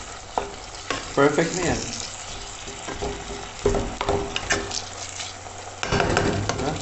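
Food being stirred in a frying pan for a quick breakfast dish, with scraping utensil strokes over a steady sizzle, close and moderately loud, and a voice briefly talking.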